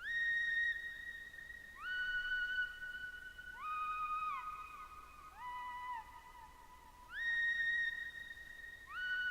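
A bright, whistle-like synth lead from the Nexus plugin plays a slow melody of gliding tones that step down and repeat, with no talking.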